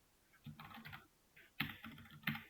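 Computer keyboard typing in two separate bursts of quick key clicks, close and moderately loud, with short pauses between them and no voices.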